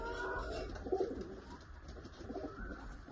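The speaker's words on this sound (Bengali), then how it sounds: "এই হচ্ছে নর কবুতর, আইস কোয়ালিটি শখ করে" A male pigeon coos softly at close range, low burbling notes over a muffled, rumbling background, with no talking.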